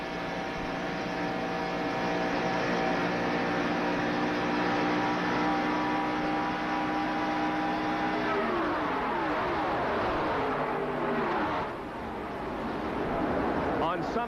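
A NASCAR stock car's engine roars inside the cockpit at Talladega during the 1987 Winston 500, a loud steady drone at full speed that shifts in pitch near the end, with a commentator talking over it.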